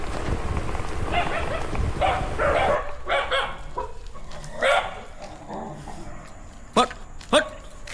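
On a main road early in the morning, a dog barks at passing cyclists in a few scattered yaps over a steady road-and-wind hiss, with a person talking nearby.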